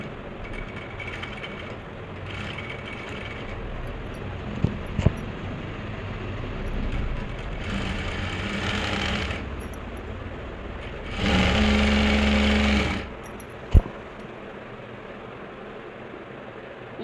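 A sewing machine runs in bursts while stitching the hem of an Afghani salwar, with a louder sustained run near the end and soft mechanical ticks between passes, close by and without talk.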